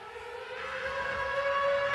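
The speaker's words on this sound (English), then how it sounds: "Okay, got the siren." A steady, rising civil-defense-style siren tone inside a psytrance music track, sustained and loud, holding its wailing pitch throughout with no voices.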